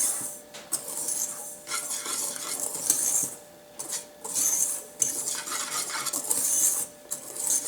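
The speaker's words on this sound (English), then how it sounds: "And I'm going to mix that all together." Flour, salt and baking powder for blueberry muffins are mixed in a bowl, a close run of scraping and clinking utensil strokes against the bowl in uneven bursts with short pauses.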